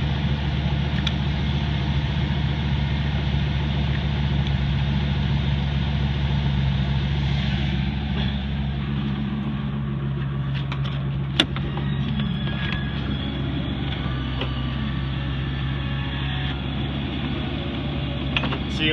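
A Western uni mount snow plow rises on its hydraulics with a steady motor and pump drone, humming continuously at close range with a couple of faint mechanical clicks near the end.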